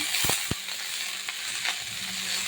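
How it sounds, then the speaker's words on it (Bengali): Broccoli hitting hot oil with cumin seeds in a karahi, a few sharp clattering drops at the start, then a soft steady sizzle with light stirring. "এখন আমি ব্রকলি দিয়ে দিচ্ছি।"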